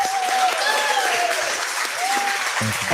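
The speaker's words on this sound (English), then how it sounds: "Maybe another round of applause is in order." Steady applause from a crowd at a live event in a smokehouse in Rogers, dense and even throughout, with some cheering voices rising over the clapping.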